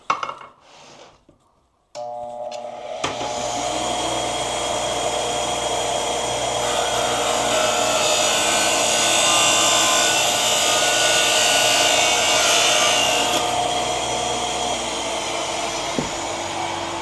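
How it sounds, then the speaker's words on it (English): A Fujikura golf club shaft being cut for a custom Miura TB-901 iron build, a steady loud whirring grind of a powered cutter that starts after about two seconds of quiet clicks and runs continuously to the end. "next I cut the shaft"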